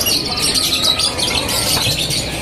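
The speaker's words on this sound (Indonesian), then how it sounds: "kita pantau bunyi ya dari kenari yang spek gacoran" A canary sings close by at a bird market, a rapid stream of high chirps and warbling trills, loud and continuous.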